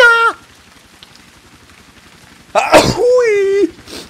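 A player sneezes once, loud and close, with a sharp burst followed by a drawn-out vocal tail, in the middle of a PC session of the game Iron Storm, with brief game sound effects before it.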